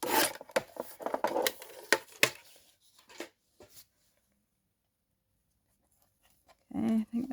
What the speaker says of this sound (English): I'm just going to trim this off where I've made that line.